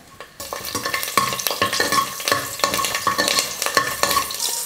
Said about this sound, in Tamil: எண்ணெய் நல்லா காஞ்சிடுச்சு. பூண்டு கொஞ்சம் சேர்த்துக்கிறேன்.